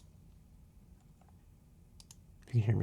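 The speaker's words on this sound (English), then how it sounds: "You can hear me clicking." Computer mouse clicking during a video game, sounding as faint, sparse, brief clicks over a low background hum, then followed by a louder burst of nearby voice at the end.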